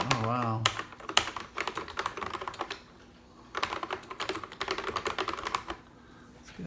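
Fingers type in quick clattering bursts on a used, dirty keyboard with colored keycaps, close and crisp, with short pauses between runs of keystrokes.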